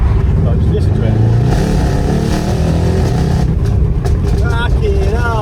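Mercedes E63 AMG car engine revving loud and close, a sustained heavy roar that swells and rises in pitch toward the end, with a voice speaking over it.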